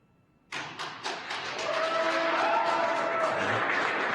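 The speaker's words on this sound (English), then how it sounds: "I don't know if you can hear the applause" Crowd applause swells in a control room at a night-time SpaceX Crew Dragon Resilience splashdown, starting after a brief silence with a few sharp claps, then building into sustained, loud clapping that fills the rest of the moment.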